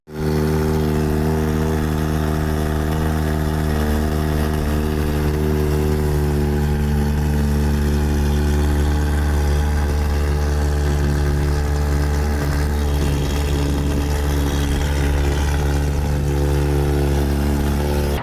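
A Kawasaki ZX-4RR motorcycle with a full exhaust idles with a deep, throaty exhaust rumble, steady and close, with slight rises in revs partway through.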